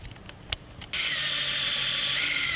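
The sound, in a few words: drill with 40mm hole saw cutting holes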